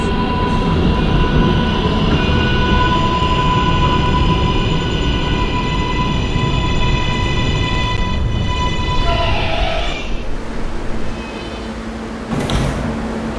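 A simulated R143 subway train on a Q express shuttle to Myrtle Avenue in the PTA Subway game runs with a loud, steady motor whine and rumble, then slows with tonal shifts and a sharp burst of noise near the end.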